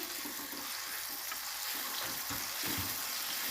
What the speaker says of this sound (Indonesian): Ini udah siap, saatnya menumis